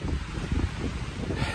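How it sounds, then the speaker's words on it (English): Strong gusting wind roars across a mountain trail in the Smokies, a constant broadband rush and buffet with no voices. "It is windy as windy can get,"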